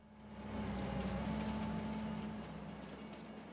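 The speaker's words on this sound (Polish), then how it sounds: "teraz akurat jak na życzenie widzicie, jedzie pociąg z daleka" A distant train passes in Farming Simulator 22, a low steady rumble with a faint hum that swells over the first second, holds, then eases slightly while staying continuous.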